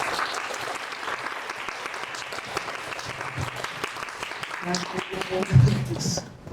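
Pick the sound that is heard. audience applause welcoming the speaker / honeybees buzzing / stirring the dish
audience applause welcoming the speaker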